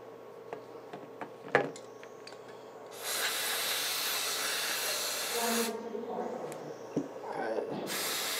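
Aerosol cleaner sprays in one long hissing blast onto the motor of a Team Associated B6 RC buggy, followed by a shorter burst near the end, with light clicks and handling noises between them.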